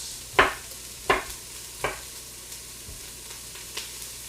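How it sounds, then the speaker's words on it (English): Broccoli and chicken for teriyaki sauteing in an Instant Pot, heard as a few sharp sizzling bursts and stirring scrapes at a spaced, uneven rhythm, close and moderately loud with no talking. "Once the broccoli and everything is in the pot, it's already sauteing."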